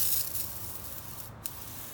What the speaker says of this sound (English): I'm going to take the pump sprayer, and all I'm going to do is I'm going to spray